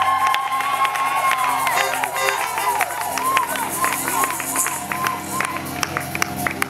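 A lively crowd at a church gathering cheers and shouts in acclamation, with scattered clapping and high voices rising over a continuous noisy roar, loud and sustained throughout.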